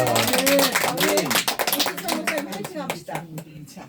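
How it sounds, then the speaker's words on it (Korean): An audience at a pastor's ordination celebration claps, with a scatter of crisp hand claps running beneath loud, close talking and cheering voices. "박수 한번 쳐주세요."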